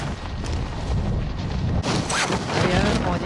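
Booming bursts of gunfire in Call of Duty Modern Warfare Warzone battle royale crackle in a dense, loud mix, growing busier toward the end with a voice underneath.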